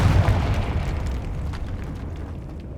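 A Confringo fire spell explodes in Hogwarts Legacy, a loud booming burst up front that decays into a rumbling, crackling tail fading over a few seconds, with no talk.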